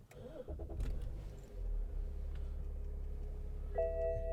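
A 2009 BMW X6 30d xDrive diesel engine is started with a push button: a short cranking burst, then a low steady idle rumble, close and moderately loud, with a faint chime near the end.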